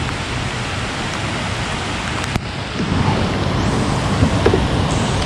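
Steady rain falls at Oxford Dam during a white perch and white bass fishing outing, a dense, continuous hiss that grows slightly heavier partway through, with no talking.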